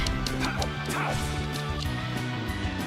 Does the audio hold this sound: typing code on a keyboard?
no